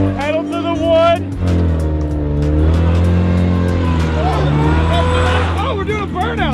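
A car with a freshly installed engine does a burnout, its engine revving loud and sustained with tires squealing, while excited voices talk and shout over it.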